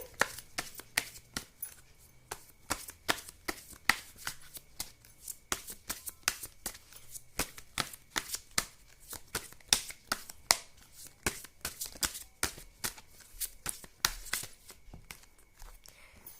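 Tarot cards are shuffled and drawn close up: a long run of crisp, rapid flicks and slaps, irregular but continuous, with no voices.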